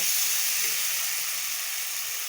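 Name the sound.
rice and potatoes frying with spices in pan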